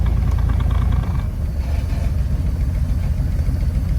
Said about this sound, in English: it idles like crap